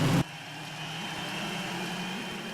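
A vintage racing car's engine from Spirit of Speed 1937 drones steadily in an action replay, a continuous buzzing hum that holds near and even after a brief louder burst at the start.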